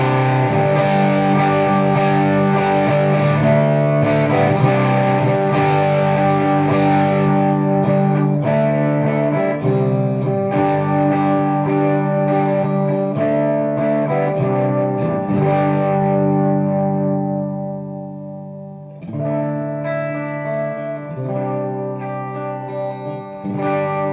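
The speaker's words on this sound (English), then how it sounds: "And now with MojoMojo Overdrive." Electric guitar runs through a TC Electronic MojoMojo Overdrive pedal, giving a loud, continuously driven, gritty tone as chords and notes sustain and blend for over twenty seconds, with a brief dip before playing resumes.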